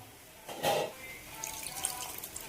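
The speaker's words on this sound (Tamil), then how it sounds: "இப்போ நம்ம வந்து அடுத்து வந்து புளி தண்ணி ஆட் பண்ணிக்கலாம்" A short splash of tamarind water poured into a pot of boiling sambar, followed by faint bubbling and simmering, quiet and close.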